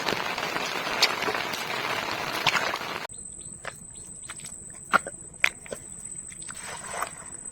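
Rain falling steadily outdoors near a riverbank in the Sundarbans, a dense hiss that stops abruptly partway through, after which scattered drips, light knocks and a high steady insect drone remain.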